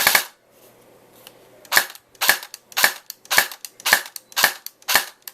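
A Makr-4 toy gun with modified compression firing single sharp shots on semi-auto, about ten snaps in a quick, fairly even rhythm, loud and close with no talking.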